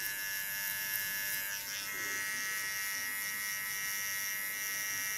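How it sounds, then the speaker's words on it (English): A small Kione hair clipper buzzes steadily and evenly at close range, a continuous electric hum with no other sounds. "This small clipper is of Kione"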